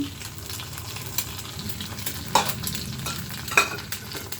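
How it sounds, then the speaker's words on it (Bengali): Beaten eggs fry with onions in hot oil as a spatula stirs them, a steady close sizzle broken by two sharp metallic clinks of the utensil against the pan. "এখন আমি পেঁয়াজের সাথে ডিমটা মিলিয়ে নিচ্ছি"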